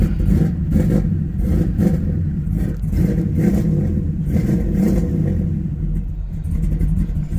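An LS-swapped G-body car's V8 engine rumbles loudly and close, a steady deep idle with small rises in revs and some clatter throughout.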